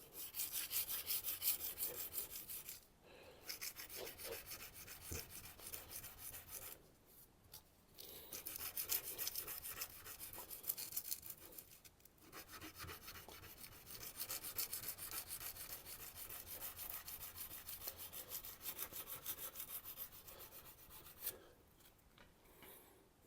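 Hand sanding of a rusty Japanese knife blade during restoration, a steady close rasping scrape in long back-and-forth strokes with brief pauses between passes, no talking.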